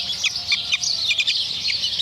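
A rooster clucks repeatedly in short, bright bursts near the listener, a steady run of chattering calls with no talking over it.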